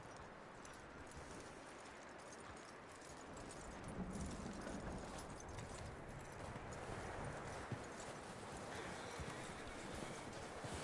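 A horse in Red Dead Redemption 2 clip-clops at a steady walking rhythm, soft and moderately close, the hoofbeats continuing evenly throughout over faint ambient background.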